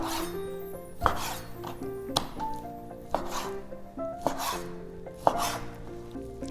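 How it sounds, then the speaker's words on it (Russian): A knife chops chicken breast into small pieces on a cutting board, five or six distinct sharp knocks spaced about a second apart over soft background music. "Грудку нам нужно порезать на небольшие порционные кусочки."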